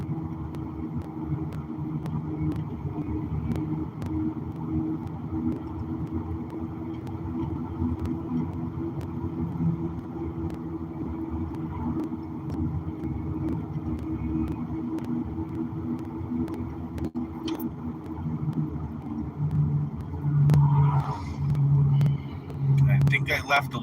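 A school bus rolls along a mountain road, heard from inside the cabin as a steady low engine drone and road rumble, with people talking quietly over it.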